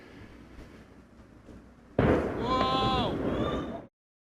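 A massive industrial explosion in Tianjin in 2015, recorded from a distance by onlookers: a sudden deep, booming blast that roars on for about two seconds over earlier faint background murmur before cutting off.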